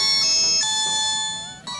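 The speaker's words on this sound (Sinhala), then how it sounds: "ඔයාට ඇහෙනවා ඇති දැන් මගේ මේ Nokia ෆෝන් එකක් rings යනවා" A Nokia phone ringtone plays a bright electronic melody of sustained tones, close and clear, with no voices.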